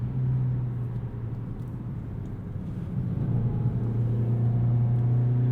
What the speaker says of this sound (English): Let's put it into sport and manual mode here and throw it through the roundabout.